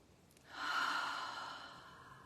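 A single deep inhale taken in a guided breathing practice during a summer solstice retreat, drawn in over about a second and a half as a soft, breathy rush, close and alone with no talk.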